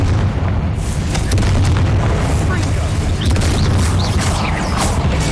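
A Confringo fire spell bursts in the Hogwarts Legacy video game, a loud, continuous rumbling blast with booming low-end energy, joined by crackling bursts and a voice heard under the din.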